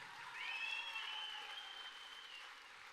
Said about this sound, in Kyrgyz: Катыраак бир кол чабыңыздарчы.